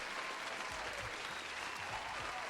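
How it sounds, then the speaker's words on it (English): Applause sound effect played during an indie music talk show: a dense, steady wash of crowd clapping at moderate, distant volume with no pauses. "Some applause."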